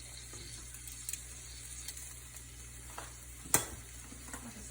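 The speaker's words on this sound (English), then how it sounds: "that sausage is already starting to sizzle a little bit" Quiet, steady sizzle of sausage frying in a pan, a soft crackling hiss with a few light clicks and one sharp clatter partway through.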